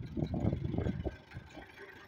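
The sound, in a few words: backhoe with forks engine running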